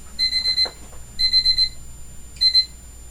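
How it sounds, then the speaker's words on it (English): An electronic medicine reminder alarm beeps in three rapid bursts of four high tones each, separated by short pauses, fairly loud in a quiet room. "that was my take your medicine alarm"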